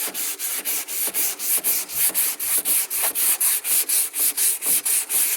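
Long, even strokes of 80 grit sandpaper across plastic body filler on a repair, a steady rhythmic rasping about four strokes per second, close and loud with no talk.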